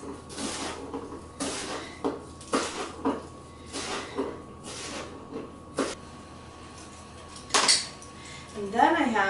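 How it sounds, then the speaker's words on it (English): A knife rough-chops about two cups of rolled fresh basil leaves on a cutting board, giving sharp, close taps at an uneven, unhurried pace, with a few louder knocks toward the end and faint kitchen clatter and murmured voice in between. "what I'm going to do is just kind of roll them up there and do a rough chop on these"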